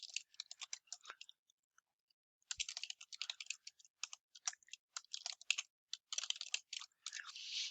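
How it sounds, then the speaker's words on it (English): Typing on a computer keyboard: quiet, close bursts of rapid key clicks separated by short pauses, with one longer gap early on, heard alone. "Okay, so I'll type the information."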